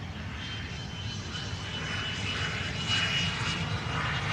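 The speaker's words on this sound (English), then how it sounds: "Gotta love those bucket reversers, which will flip back in a few moments." Airliner landing at Amsterdam Schiphol with bucket thrust reversers deployed, a steady broad jet roar heard from a distance that swells slightly toward the end, with no talk over it.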